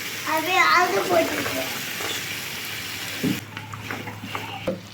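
Vegetables for a vegetable dum biryani are stirred in a pot before green peas go in, with a soft sizzle and scraping under a brief voice at the start, then a dull clunk and quieter stirring.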